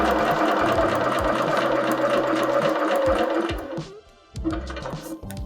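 Sewing machine stitching a foundation paper piecing seam, a loud close whirring hum with rapid needle clatter that runs steadily, dips briefly and starts again.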